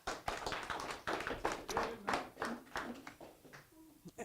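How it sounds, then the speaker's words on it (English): Audience applause for a volunteer songwriter and musician, a spread of overlapping hand claps with uneven bursts lasting several seconds, fairly close, with some murmured voices underneath. "Round of applause."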